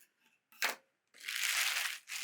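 A plastic shipping bag is torn open by hand, with a short crinkling burst followed by a longer, louder rustling crackle of plastic close by, then another brief crinkle.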